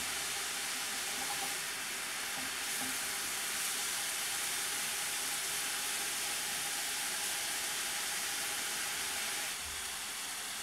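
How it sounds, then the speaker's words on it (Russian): Steady broadband sizzling from carrots and onions frying in sunflower oil in a pan, a continuous soft hiss with no talking. "Здесь в сковородке у нас обжаривается морковка с луком на подсолнечном масле."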